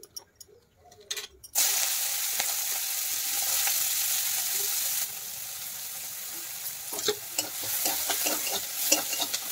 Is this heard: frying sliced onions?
yes